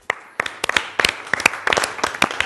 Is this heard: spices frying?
no